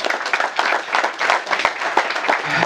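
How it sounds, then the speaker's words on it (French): An audience at an entrepreneurship training seminar claps and applauds briskly, a dense burst of many hands at close range throughout. "applaudissez pour lui"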